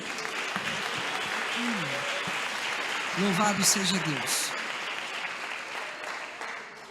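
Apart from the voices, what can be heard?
congregation applauding in church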